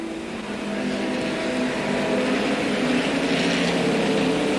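Late model race car at a 1985 short-track race, its engine droning steadily with a slipping clutch, a broad roaring wash with a distant, crowd-like background and no clear revving peaks.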